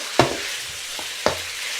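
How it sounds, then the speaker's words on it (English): Beef tenderloin stir-frying with pepper for Peruvian lomo saltado, a steady sizzle broken by two sharp bursts of stirring in the pan; no one speaks. "This is our tenderloin stir fried from Peru."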